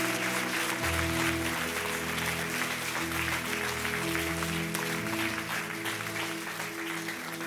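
A church audience applauds at a Christmas service, a dense sustained clatter of many hands clapping throughout, with sustained musical tones ringing underneath the applause.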